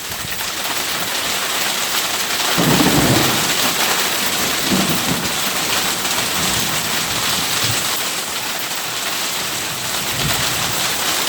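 Heavy rain pours down during a thunderstorm with lightning, recorded from an outdoor deck, making a dense, loud, steady hiss, while a low rumble of thunder swells and fades underneath. No one speaks.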